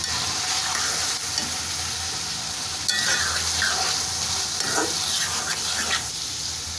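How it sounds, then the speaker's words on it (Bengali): Egg stir-fried with vegetables and meat for noodles makes a loud, continuous sizzle, broken by occasional spatula clanks and scraping against the pan. "এখন আমি ডিমটা সবগুলো সবজি আর মাংসের সাথে মিশিয়ে দিব"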